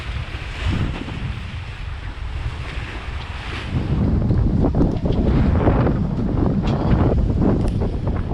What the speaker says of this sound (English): The wind is still blowing a good 16 knots